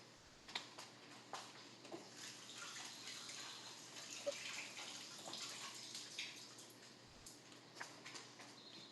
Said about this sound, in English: I'm gonna give this a good rinse really quick